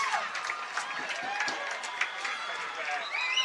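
A high school football crowd at a Holliston Panthers versus Medfield Warriors game cheers after a touchdown return, a steady wash of distant cheering, clapping and shouting, with an announcer talking over it.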